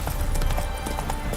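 Hooves of Roach, the horse in The Witcher 3, clop in a quick, steady trot, close and clear over the game's ambient background.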